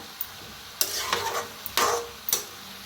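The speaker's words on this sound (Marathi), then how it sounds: "मिक्स करत ना भाजायचं सगळा मसाला" Spice masala stirred as it roasts in a pan, a few sharp scraping strokes and soft sizzling bursts spaced irregularly, close and quiet, with no talking.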